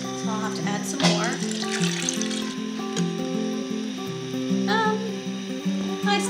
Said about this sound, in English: I'm going to add some hot water to it.